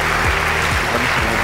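Sustained applause for a quiz winner on a French football show, dense steady clapping filling the whole moment with a few low thumps underneath.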